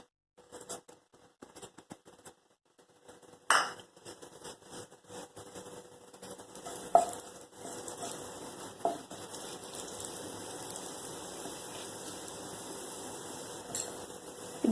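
Cumin seeds and a bay leaf hit hot ghee in a pan after some soft handling noises, then a steady, even sizzle carries on close by with occasional light clinks.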